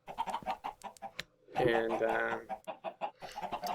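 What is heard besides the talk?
chickens clucking and squawking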